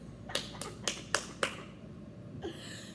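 A congregation at an evening church service gives a few clear hand claps of praise, about five sharp claps in a row, fairly faint, followed by a short quieter sound.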